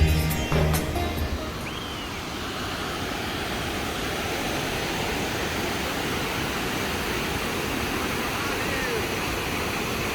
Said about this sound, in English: you can see the amount of water, how much it is flowing. The current was really high